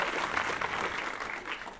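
Brief, faint burst of audience applause, a soft wash of clapping from a crowd at the Monrovia State of the City address in 2019.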